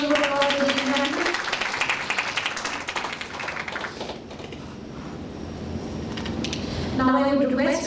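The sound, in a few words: audience applause at a conference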